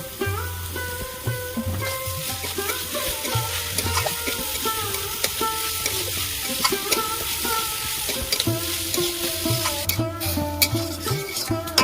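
Young bottle gourd, added raw without boiling for an egg and gourd ghonto, sizzles as it fries in a pan and is stirred throughout, with steady scraping and frying noise under a constant crackle.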